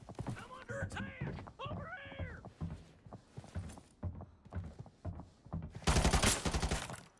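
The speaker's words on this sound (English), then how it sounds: "Close range AX-50 still takes 2 shots to get the kill." A burst of rifle fire from an AX-50 in the Arena Breakout shooter game erupts loudly near the end, following stretches of excited talk.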